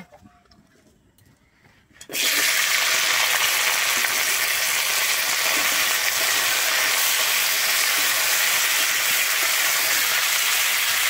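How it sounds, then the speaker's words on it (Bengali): Flat beans drop into hot mustard oil in a wok and set off a loud, steady sizzle that begins abruptly after a couple of quiet seconds and carries on unbroken, with no talking. "আমি প্রথমে শিমটাকে ভেজে নেব"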